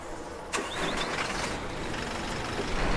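A Marcopolo Torino bus engine starts up in OMSI 2, a sharp ignition click followed by a steady, rising mid-pitched rumble that settles into a loud idle.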